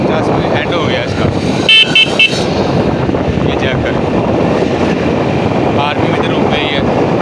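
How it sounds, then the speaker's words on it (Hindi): A Honda CD 70 motorcycle with an overheating problem held at full throttle, its engine droning loudly and steadily close by with a windy roar, while someone talks over it. "50 से ऊपर बाइक नहीं जा रही, फुल रेस है।"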